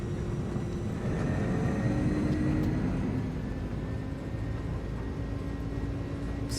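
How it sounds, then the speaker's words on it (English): Airbus jet engines roar steadily at takeoff thrust in a flight simulator, a loud, sustained broadband rumble with a faint rising whine and no talking. "Sounds for takeoff are amazing."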